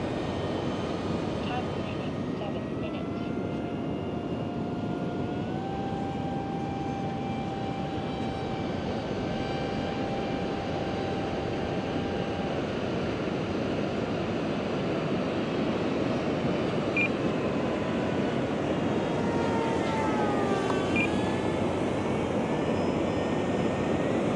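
An Esky Eyas RC model airplane on its maiden flight drones overhead with a steady, buzzing electric motor whine that shifts in pitch as it maneuvers, over constant wind noise outdoors.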